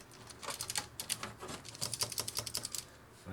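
Quiet, fast clicking from an affordable C64-style mechanical keyboard, with bursts of close keystrokes in an uneven rhythm.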